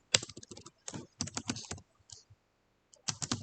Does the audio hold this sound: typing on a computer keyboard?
yes